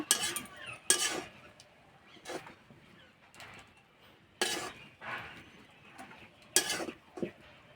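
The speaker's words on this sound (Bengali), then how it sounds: "খুন্তি গোড়ায় করে এইভাবে একটু নেড়ে দেবো" A spatula turns jute leaf greens in a pan, making scattered metallic clinks and scrapes with quiet pauses between them. A soft low sizzle sits in the background.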